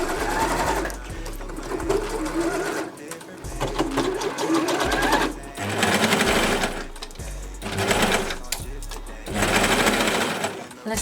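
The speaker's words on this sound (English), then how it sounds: "I'm just gonna sew as much as I can" Sewing machine stitching a festival outfit runs loud and close in several long bursts separated by short pauses, its rapid mechanical chatter continuous during each run.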